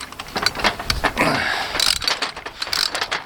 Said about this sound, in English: Always check the direction of your wrench before you start your ratchet before you start ratcheting.